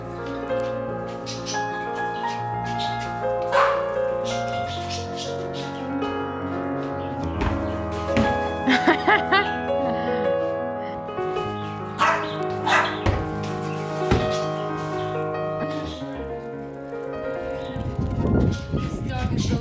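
A pet dog barks and yips intermittently at close range in a home in Portugal, short sharp bursts scattered over a busy background of music and people talking.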